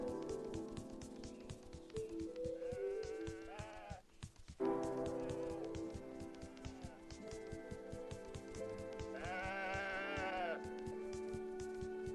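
Sheep bleat twice in the video game Woven, each a wavering, nasal cry, over a steady rhythmic game soundtrack with plucked tones and light percussion.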